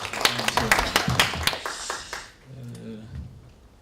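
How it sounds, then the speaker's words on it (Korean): Conference audience clapping to welcome a presenter, a short burst of crisp, overlapping claps that fades after about two seconds into quiet room tone with light voices. "박수로 맞으십시오."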